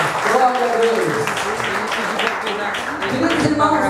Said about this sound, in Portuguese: Dá uma calorosa salva de palmas para Jesus nessa noite